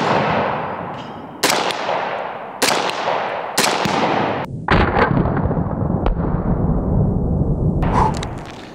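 An Orca rifle topped with a 3X optic fires precision shots at targets downrange, three or four loud, sharp reports spaced about a second apart, each trailing a long echo across an open range.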